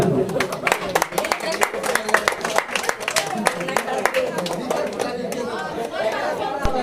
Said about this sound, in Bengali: আমরা প্রত্যেককে বলবো আবারও করতালি দিয়ে সবাইকে অভিনন্দন জানানোর জন্য।